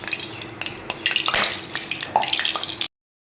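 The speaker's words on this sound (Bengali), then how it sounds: "আর এখানে আমি কড়াইতে দিয়ে দিচ্ছি সর্ষের তেল" Mustard oil goes into a kadai, with dense, close clattering and sizzling stirring noises that run steadily for about three seconds before cutting off abruptly.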